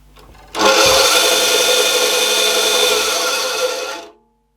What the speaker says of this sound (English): This is just the brush sound down here